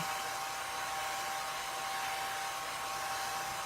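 A hair dryer blowing on a vinyl transfer, a constant close whooshing roar with a steady whine, even throughout with no talking.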